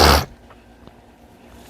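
A single loud, sharp sneeze bursts out right at the start, followed by quiet room tone and a short breathy sound at the end.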